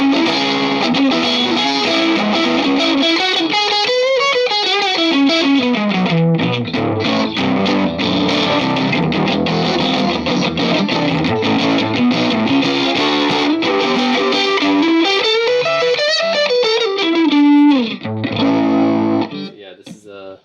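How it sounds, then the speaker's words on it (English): An electric guitar played through an overdrive pedal on its crunch setting, heavily distorted and gritty, with sliding riffs and sustained chords ringing continuously until it trails off. "The crunch setting adds even more gain."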